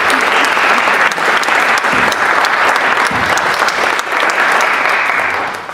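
Audience applause for a panel at an event breaks out and holds steady, a dense wash of many clapping hands from a crowd, continuous and fairly loud without voices over it.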